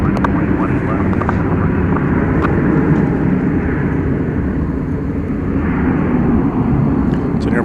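An American Airlines Airbus A321 departs from Dallas Fort Worth, its jet engines giving a loud, continuous rumbling roar with people talking underneath.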